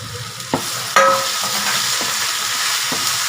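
Onions and chopped tomatoes sautéing in a pan for a spicy Kerala-style chicken curry, with a steady close sizzle and a few sharp clacks of a spoon stirring against the pan. No one speaks.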